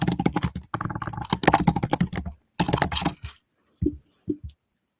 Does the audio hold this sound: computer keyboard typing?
yes